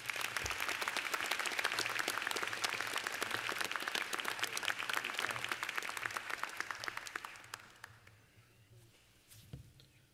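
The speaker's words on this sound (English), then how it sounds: "Please give a round of applause for Mr." Graduates and guests at a Rutgers-Camden 2018 graduate school commencement applaud Sandy Stewart. The dense, sustained clapping goes on for about seven seconds, then thins to a few scattered claps and near silence.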